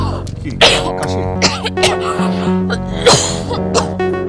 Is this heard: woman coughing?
yes